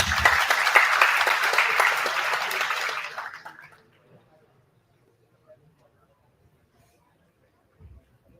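Applause for a student coding team at a B.Tech inauguration ceremony, a dense burst of clapping for about three seconds that stops abruptly, followed by near silence with faint stray noises.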